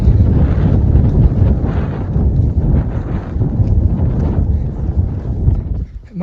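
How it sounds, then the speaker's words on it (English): Strong wind buffets the microphone on a snowy mountain ridge, roaring and gusting steadily up close with a low rumbling rush and no other sounds. "And it's windy."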